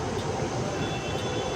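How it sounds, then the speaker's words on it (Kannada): A metro train passes overhead in Bangalore above traffic, a loud steady rumble with rail roar dominating a short stretch. "ಮೇಲೆ ಮೆಟ್ರೋ ಟ್ರೈನ್ ಹೋಗ್ತಾ ಇದೆ"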